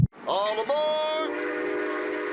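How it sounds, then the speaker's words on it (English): A train sounds its horn in rising, layered whistle tones for about a second, then settles into a steady, loud rumble of the moving train, with no talk over it. "Travel by train."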